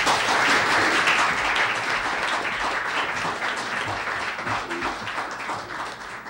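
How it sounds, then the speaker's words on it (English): Warm audience applause at a New York civic forum welcomes a speaker, a thick roar of clapping that starts strong and gradually thins and softens toward the end. "I'd like to have a round of applause to present Ms."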